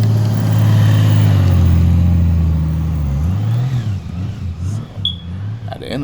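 A 2019 Honda Goldwing motorcycle rolls slowly down a driveway carrying two riders. Its engine holds a loud, steady low rumble close by, dips as it eases off, then gives way to lighter tire and road noise.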